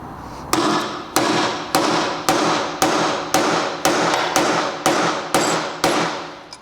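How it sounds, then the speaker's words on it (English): Hammer driving a punch against a stubborn seal in a blown Vespa GTS 300 HPE scooter engine, eleven sharp metallic blows at a steady rhythm, loud and close with no talking. "a big enough hammer and a big enough punch will do the trick"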